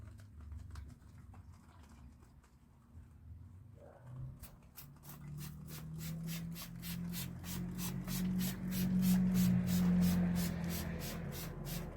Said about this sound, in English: You take this water, it's a 50-50 mix, and just spray the hell out of it.